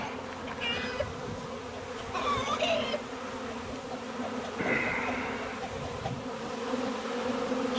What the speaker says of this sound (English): Follow the bees. Where are they going? They're clustering up here.